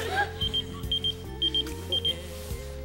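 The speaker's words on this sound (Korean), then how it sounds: "오늘은 삐삐로 주문을 받을게." Pager beeping in short paired electronic bleeps, repeating several times in a steady rhythm over a low background hum.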